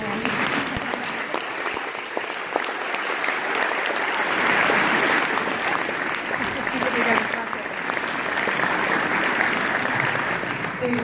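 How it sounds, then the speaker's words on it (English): An audience at a 2017 choir awards event gives a sustained round of applause, thick and continuous clapping that swells slightly midway and holds steady. "Round of applause."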